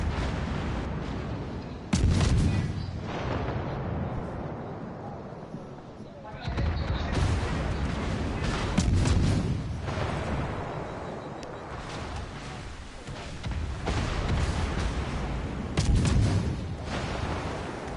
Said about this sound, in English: I got hit, they hit with torpedoes again.